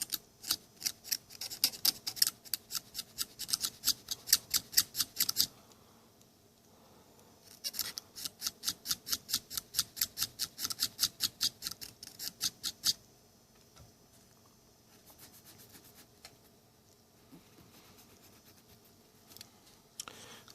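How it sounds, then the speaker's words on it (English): A tool scrapes hardened grease off an early-1960s VM record changer in rapid rhythmic strokes, two long bursts of quick close scratching separated by quieter pauses with faint handling noises. "This one's got some hardened grease there, so we need to scrape."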